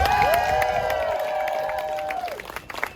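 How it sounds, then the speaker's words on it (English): Crowd at a street protest in Cardiff clapping and cheering, with a loud rising and falling whistle or voice-like tone sweeping over the scattered claps, tapering off near the end. "please give them a massive round of applause"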